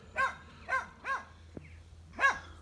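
A little dog barks four times in short, evenly spaced yaps, close by and fairly clear against a quiet outdoor background, with a faint click between the third and fourth barks.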